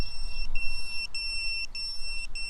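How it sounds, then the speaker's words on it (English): A lost-model buzzer on a small FPV toothpick drone shrills in loud, repeated high-pitched beeps, pulsing in steady bursts about every half second over faint outdoor background noise. "Having a buzzer is essential for these little"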